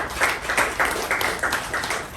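A small group claps at a meeting, with quick, fairly even claps in a steady rhythm that carries on through the whole stretch at moderate volume.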